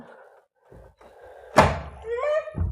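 A door closes with a single solid thunk at close range, a sharp impact followed by a short rattle, between brief quiet stretches.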